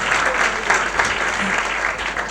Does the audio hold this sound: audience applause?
yes